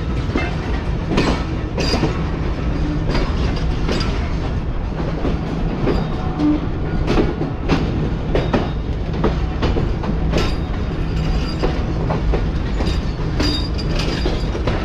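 The Karakoram Express rolls through Kotri Junction, its wheels keeping a loud, continuous clickety-clack with repeated rhythmic rail joint impacts and faint squeals, heard up close without any voices.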